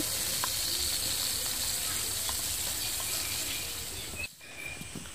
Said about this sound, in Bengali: মাছ ফ্রাই করা আমার হয়ে গেল